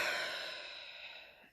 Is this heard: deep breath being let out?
yes